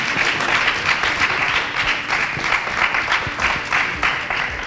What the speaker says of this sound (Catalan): Aplaudiment ben fort.